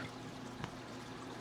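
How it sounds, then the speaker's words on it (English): An aquarium gravel vacuum sucks up water in a fish room, giving a faint, steady pouring rush that runs continuously for a moment and stays quiet throughout. "that vacuum is creating quite the current."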